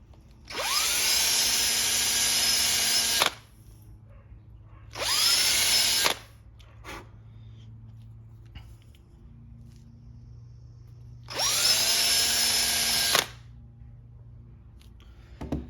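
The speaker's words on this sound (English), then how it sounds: "taking just a drill bit like this and drilling out my circle hole where I want that" Three bursts of a high-speed power drill whine as it bores a hole in wood, a few seconds each, separated by quieter pauses; close and loud, no talking.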